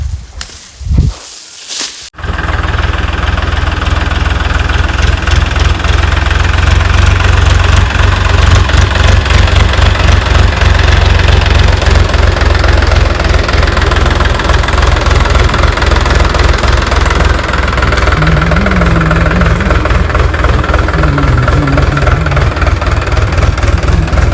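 A tractor's diesel engine idles steadily and loudly up close on a farm, a constant low rumble with a knocking chug, after a brief quieter start.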